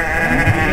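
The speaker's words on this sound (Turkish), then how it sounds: "Koyun var, kuzulu koyunlar var." A single sheep bleats close by at a Turkish livestock market for sheep and lambs, one short, loud call lasting under a second.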